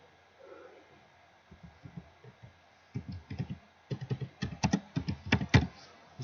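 Computer keyboard typing text into an invitation card in Word, with scattered single keystrokes followed by quicker, denser bursts of close, crisp clicks over a quiet room hum.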